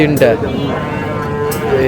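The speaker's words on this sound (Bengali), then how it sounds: "3 পিস ষাঁড় বাচ্চা আমরা দেখছেন।" Young Sahiwal bull calves at a cattle market, a loud, close, drawn-out low moo filling most of the moment, with people talking around it.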